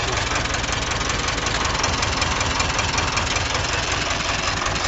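An old farm tractor engine runs steadily at idle with a rough, knocking rumble, loud and close throughout, with no voices over it.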